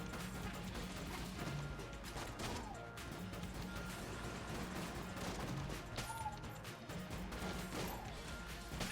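Dense, continuous gunfire from a chaotic gun loaded with Chaos Bullets in Enter the Gungeon: rapid overlapping shots and crashes keep up a loud, busy barrage across the whole stretch, with no voice over it.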